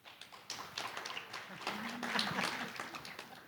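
Conference audience applause, a quiet burst of scattered clapping that swells slightly and then thins out, heard from a distance.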